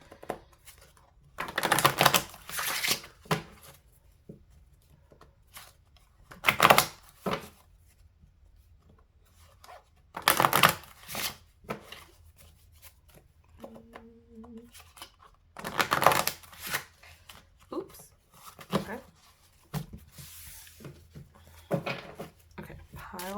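Oracle cards are shuffled by hand for a tarot reading in a quiet room, recurring short bursts of crisp riffling and flicking that come every few seconds with quiet gaps between.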